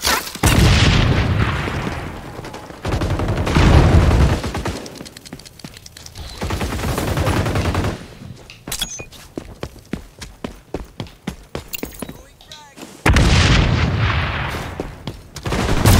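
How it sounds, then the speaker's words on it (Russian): Gunfire in the shooter game XDefiant: sustained loud automatic bursts and booming shots, then a stretch of rapid individual cracks, close and dense, with faint talk mostly buried underneath. "Блин, я мимо стреляю там."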